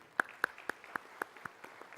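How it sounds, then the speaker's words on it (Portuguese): Applause from a plenary session audience at a legislative event, heard as a series of separate, sharp claps, fairly quiet and evenly spaced, with no talking over them. "Peço uma salva de palmas"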